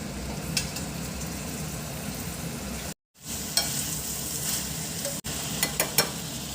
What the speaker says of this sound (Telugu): ఉల్లిపాయలు కూడా వేసుకొని కలుపుకుందాం.